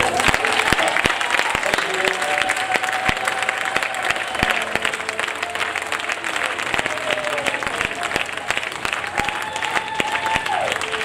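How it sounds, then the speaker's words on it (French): A church congregation at a Mother's Day service claps loudly and continuously, sharp individual claps standing out from the dense applause, with faint voices and tones carrying underneath. "On va l'applaudir, n'est-ce pas?"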